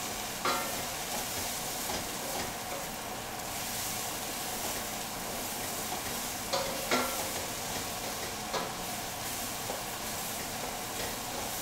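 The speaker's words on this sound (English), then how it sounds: "Okay, onions and stuff are almost there. Our mirepoix sweating out really nicely." Onions and mirepoix sweat in a hot pan with a steady, dense sizzle that runs throughout, close and even, broken by occasional light scrapes of stirring.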